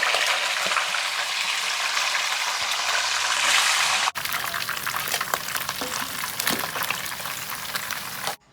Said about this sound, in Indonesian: Jadi ikannya tuh digoreng dulu.